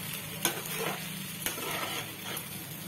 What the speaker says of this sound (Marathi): त्याच्यात आता मावशी एक पलटी मारतील खिचडीत